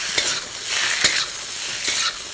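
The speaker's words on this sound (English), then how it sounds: "Sprinkle in the turmeric and the salt. Gently saute it" Turmeric and salt sauté gently with curd in a pan, heard as a soft continuous sizzle with a few close stirring scrapes and taps, without speech.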